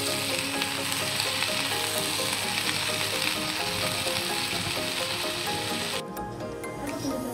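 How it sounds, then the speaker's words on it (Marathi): Washed fenugreek leaves sizzle steadily in a hot pan as they are stirred in for a Holi offering dish, a continuous close frying hiss that cuts off near the end. "ही स्वच्छ मेथीची भाजी धुवून घेतलेली आहे, ही टाकून घेऊया. मेथीची भाजी आणि एकजीव करून घेऊया."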